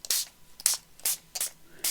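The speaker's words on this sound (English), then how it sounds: "So all I'm going to do is spray my envelope with it." Homemade stain spray misted onto a paper envelope: five short hissing pump-spray bursts in quick succession, close and fairly loud.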